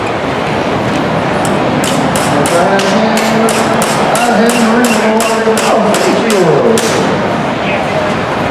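Loud, rapid metallic hammer strikes from a featherweight combat robot's hammer weapon bang out in a fast series over a constant roar, with a tonal mechanical whine sliding underneath.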